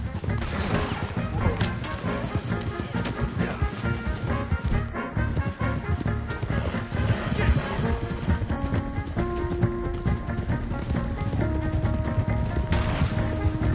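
Gunfire in Red Dead Redemption 2: sharp shots crack in dense, overlapping bursts within a loud, busy mix of other game sounds, continuing for the whole stretch.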